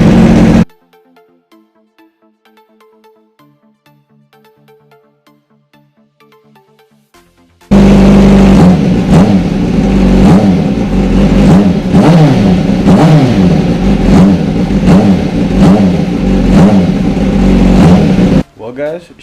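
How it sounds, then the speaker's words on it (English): A Kawasaki Ninja ZX6R 636 motorcycle engine starts after a quiet pause and runs loud and close, with rising and falling revs over a steady rumbling idle before cutting off, with speech heard at the start. "you want to go ahead and start your bike up, let it run for a little bit"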